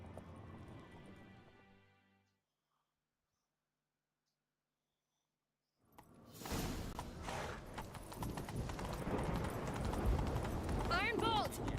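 Horses galloping in the video game The Witcher 3: Wild Hunt, a dense drumming of hoofbeats with rushing wind and noise building after a silent gap, loud and continuous under game sounds.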